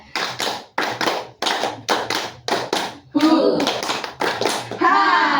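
Children in a group counseling session clap hands in a counting game, sharp rhythmic bursts of claps in regular groups with short gaps, joined near the end by children's voices chanting along.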